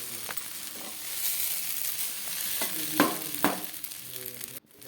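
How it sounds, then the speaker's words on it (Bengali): Rice and spices sauté in a pan for biryani-style khichdi, a low steady sizzle with a few spatula scrapes, close and quiet, then a brief cut near the end. "এবার দেখো খুব ভালো করে আমি কষিয়ে নিচ্ছি"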